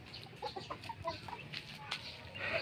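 Backyard chickens cluck in a small farm pen, several short repeated clucks and squawks at moderate distance with soft ambient noise.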